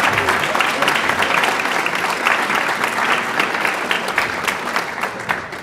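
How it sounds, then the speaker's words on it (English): Students at a Farmington High School orchestra concert give their parents a round of applause, dense and sustained crowd clapping filling the room at a steady level. "students, please give your parents a round of applause"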